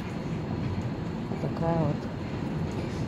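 A crowded passenger train between Ternopil, Kyiv and Kremenchuk rumbles steadily as heard from inside the carriage, a dense low roar throughout, with someone speaking briefly over it.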